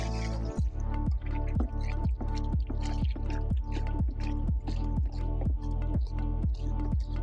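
Water for a homemade floor cleaner mixture falls in a regular series of heavy drips or glugs into a container, about a dozen evenly spaced plops with a low hum beneath and no talking.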